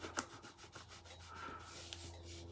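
A baby wipe rubbed across an embossed card to clean it, giving soft, close scrubbing strokes in a quick uneven rhythm over a faint background hum.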